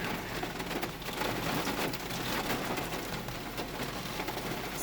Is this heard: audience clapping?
no